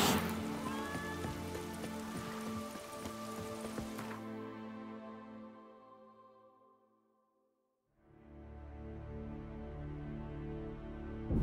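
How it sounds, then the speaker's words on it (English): Heavy rain in The Witcher 3 on the Skellige isles, a steady broadband downpour that fades to near silence midway before returning with a low rumbling ambience. "Raining fucking buckets."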